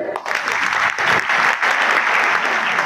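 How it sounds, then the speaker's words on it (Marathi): A crowd claps steadily and loudly for a few seconds during a political speech, a dense, sustained wash of applause. "टाळ्या वाजवून घ्या"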